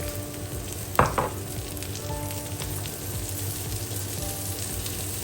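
Onions added to a pan of browned garlic and ginger sauté with a dense, close crackling sizzle, a sharp hiss as they hit the oil, then an even frying texture with no voices.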